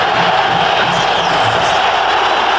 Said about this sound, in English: The crowd is heard.